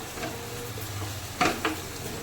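Soft sizzle of mutton stir-frying in a pan, with a couple of quick scraping stirs near the middle.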